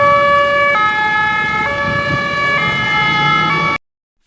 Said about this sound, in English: Can you hear the sound of ambulance?